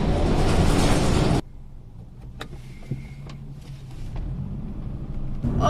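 Inside a city bus heading downtown, a steady low engine rumble and road noise carry on after a loud burst of wind noise fades, with scattered rattles and clicks from the cabin.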